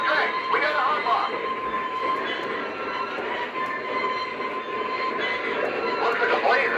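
A Lionel model train runs steadily along its track, a continuous rolling rumble with a faint metallic whine, some voices murmuring underneath.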